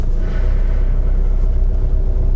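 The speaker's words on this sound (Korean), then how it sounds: "엔진 소리도 조용합니다" A Kia K5 second-generation 1.7 diesel engine rumbles steadily as the car pulls away, a loud, low drone with no voices.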